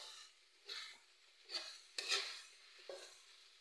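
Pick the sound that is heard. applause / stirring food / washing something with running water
stirring food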